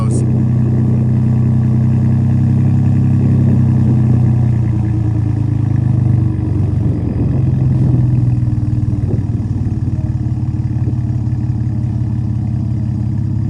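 A Ford F-150 with a 3.5-liter EcoBoost engine and an aftermarket exhaust built for a 5.0 idles with a loud, steady low drone, the rumble wavering slightly midway.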